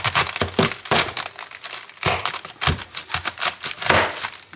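A knife slicing through a whole cabbage, giving a series of sharp crunchy cracks and crinkling snaps in quick irregular bursts, close and fairly loud with no talking.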